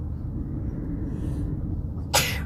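A single sharp sneeze bursts out near the end, loud and close, over steady low rumbling wind and vehicle noise on an outing at Hoover Dam.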